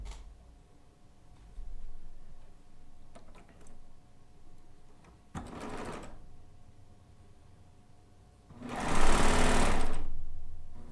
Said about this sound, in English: even this cover stitch machine is technically part of the serger family